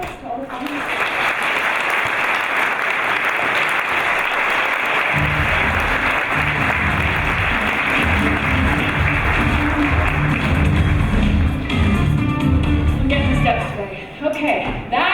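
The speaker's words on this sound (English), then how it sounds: "let's give a big round of applause to all the finalists" Audience at an awards competition applauds the finalists, a loud, sustained wash of clapping joined partway through by low rumbling crowd noise, continuing steadily before tapering at the end.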